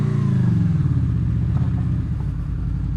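Honda Grom motorcycle climbing a gravel hill, its small engine droning loud and close with a steady, labored low rumble that strains throughout.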